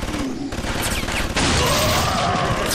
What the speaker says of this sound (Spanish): se escuchan disparos